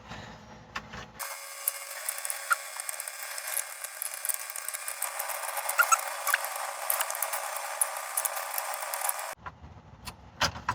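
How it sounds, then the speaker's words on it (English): Plastic trim clips are pried loose inside a MK7 Volkswagen GTI, giving close, scattered clicks and scraping handling noises against a quiet background. "slowly, gently remove a clip, and everything will start to pop off for you"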